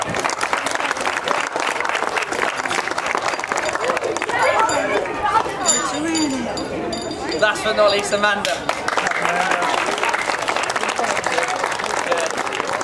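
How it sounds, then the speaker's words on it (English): Crowd applause at a youth girls' soccer awards ceremony after a U11 final, steady clapping and cheering throughout with chatter mixed in, while a presenter's voice announces names over it. "Guys, round of applause again."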